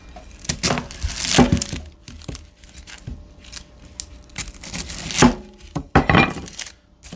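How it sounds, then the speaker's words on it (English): A knife cuts a sweet yellow onion on a board as a pizza topping, making irregular crisp slicing crackles and dull thunks up close, with bursts of cutting separated by short pauses. "Now, we're going to cut up some toppings. We've got onions."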